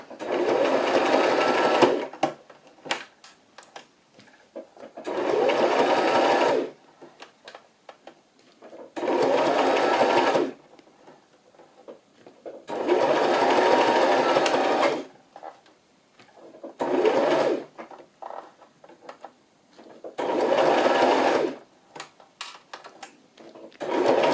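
A sewing machine stitches ruffles on pinned fabric in a series of rhythmic bursts of rapid mechanical whirring, stopping and starting repeatedly, with quiet pauses between runs.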